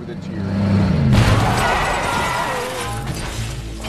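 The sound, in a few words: car crashing into a classic car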